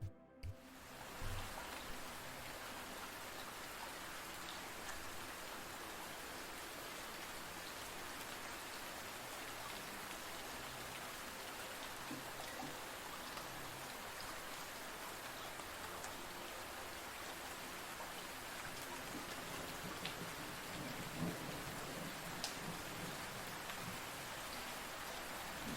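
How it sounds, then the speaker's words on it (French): Steady rain pours continuously, a soft even hiss of drops with no voices, calm and unbroken throughout. "je vous propose qu'on se détende ce soir au son de la pluie"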